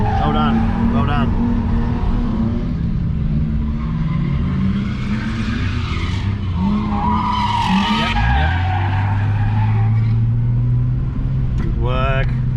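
A Ford AU Falcon on semi-slick tyres drifts at a drift park, its tyres squealing loudly in long howling sweeps over a revving engine. Near the end the squeal rises into a sustained, steady scream.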